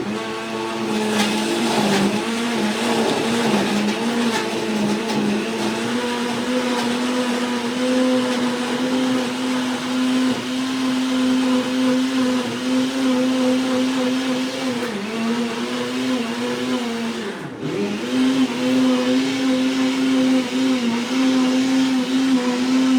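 A blender runs continuously at high speed, whirring loudly as it purees mint and spinach into a green drink, with a brief dip in pitch near the end before resuming its steady roar.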